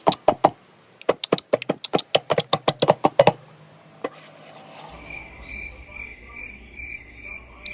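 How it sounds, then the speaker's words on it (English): Crickets chirping at night, a loud close series of sharp repeated chirps in quick rhythm for a few seconds, then a single chirp and a softer steady insect trill over a low background hum. "Like these crickets,"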